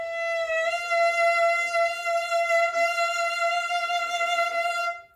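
A single sustained violin note played with an even vibrato that wavers up and down in pitch, sounding slightly sharp; clear, close and solo, with no talking.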